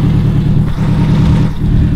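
Loud, close engine drone from inside a moving car on a calm drive, a steady mid-low hum with slight swells as the throttle shifts.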